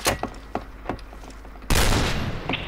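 Gunfire in the video game Point Blank: several sharp, spaced single shots ring out, then a loud, sustained burst of rapid firing and rumbling blasts, close and punchy.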